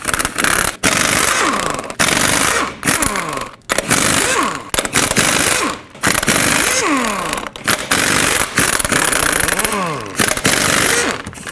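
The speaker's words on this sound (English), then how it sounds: "use your 22mm socket and remove all 8 of your lug nuts" A 22mm socket on a power tool spins off the eight lug nuts of a 2008-2010 Ford F-250 wheel in loud whirring bursts, each separated by a brief pause.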